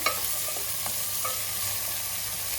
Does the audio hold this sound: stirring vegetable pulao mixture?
yes